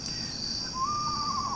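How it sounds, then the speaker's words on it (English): Screech owls call near a woodland trail, giving a soft whistled trill that rises and holds steady. A thin, constant high-pitched hum runs underneath the whole time. "this is actually a pair of screech owls"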